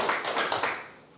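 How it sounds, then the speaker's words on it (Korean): At a talk concert on the history of Korean popular music, an audience claps briefly: a few quick bursts of hands close together that fade out within about a second. "다시 한번 박수 부탁드리겠습니다."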